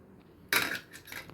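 Three eggs are cracked into a bowl while cooking curry dosai: a quiet start, then a sharp crack and a wet splash midway, followed by a softer second sound, close up and with no talking.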